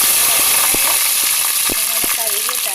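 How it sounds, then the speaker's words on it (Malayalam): Washed dried red chillies sizzle loudly in hot oil, a steady close hiss broken by a few sharp pops. "ഇനി നമുക്കതിനകത്തോട്ട് വറ്റൽമുളക് ചേർത്ത്"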